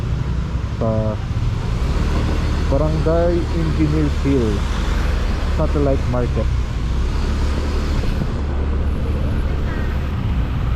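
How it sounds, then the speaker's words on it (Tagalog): Busy city road near a satellite market with steady engine rumble and passing vehicles, a continuous loud traffic bed under someone talking throughout. "Medyo traffic dito."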